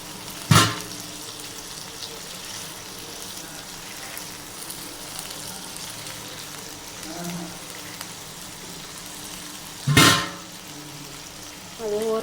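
Fish fries in a pan with a steady close sizzle and crackle throughout, broken by two sharp clattering spoon scrapes as the pieces are turned and a third knock at the end.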